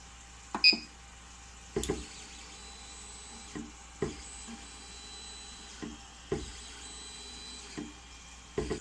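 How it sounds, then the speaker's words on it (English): Ender 3 3D printer moving its X axis in one-millimetre steps, a series of short whirring motor bursts spaced about every second or two over a faint steady hum, close by and without talk. "selecting prepare, move axes, 1 millimeter, move X-axis"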